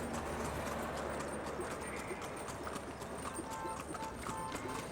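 Horse hooves clip-clop in a steady rhythm as a horse and carriage carries riders through Aswan toward the Old Cataract Hotel, mixed with street background and faint voices.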